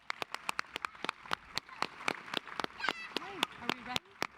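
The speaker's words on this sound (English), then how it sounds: "So another round of applause," Applause at an annual awards ceremony, heard as a string of close, sharp, unevenly spaced claps rather than a full roar, with voices talking over the final seconds.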